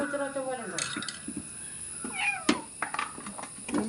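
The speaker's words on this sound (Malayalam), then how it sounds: "പൂച്ചറ ഒച്ചയൊക്കെ കേൾക്കാം." A cat trapped inside a vehicle meows repeatedly and loudly at close range, its cries rising and falling, with scraping and knocking noises between them.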